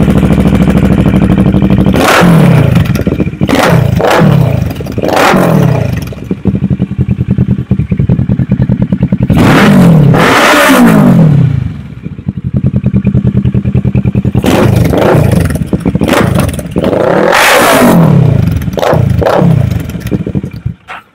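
A Kawasaki ER6F (650R) sport bike fitted with an AGM slip-on exhaust revs hard in repeated bursts, rising and falling loudly over a steady idle, close and without any talking.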